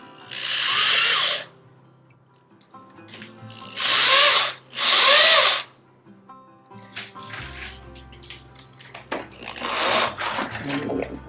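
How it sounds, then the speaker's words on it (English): A power drill bores into a wall stud in a classroom in three loud whining bursts, the first about a second long and then two back-to-back, with quieter knocks, handling noise and a low rumble between them. "let it drill."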